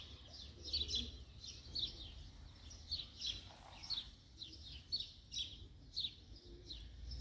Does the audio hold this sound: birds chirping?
yes